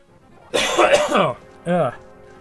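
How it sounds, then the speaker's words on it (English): One harsh, throaty cough bursts out close to the microphone, then a short raspy clearing sound follows. Brief and loud, with no other sounds. "Sorry about the cough there."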